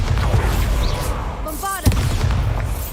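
A Bombarda blasting spell cast in the Hogwarts Legacy video game, heard as a short burst with a sharp thump around midway, over a dense rumbling background with some voice-like tones.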